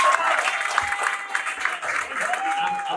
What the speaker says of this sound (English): So come on, give it a clap off for Chenda.